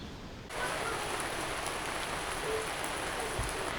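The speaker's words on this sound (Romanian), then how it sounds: "S-a pus ploaia." Rain falls onto a rooftop, arriving as a sudden steady hiss after a brief quiet moment, then a continuous even patter that fills the scene.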